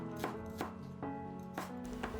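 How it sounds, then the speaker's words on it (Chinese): A kitchen knife cuts ginger into slices and strips, making four or five crisp chopping knocks against a board at an unhurried pace, close up with no talking. "姜切片再切成丝"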